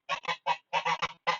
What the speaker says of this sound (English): I do have a pair of geese that seem to want to give me their opinion